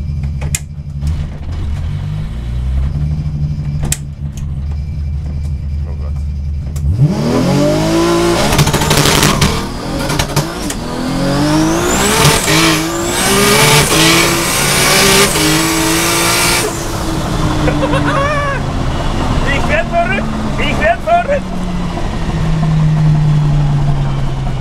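VW Golf 2 race car with 1483 hp, heard from on board: a low idle rumble erupts into a loud, screaming acceleration with rapid gear-change surges and rising revs, sustained roar continuing to the end, no speech.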